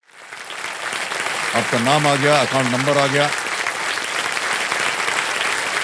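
Studio audience applause on the KBC game show swells into steady, dense clapping, while a host speaks over it and a short musical sting rises and falls partway through.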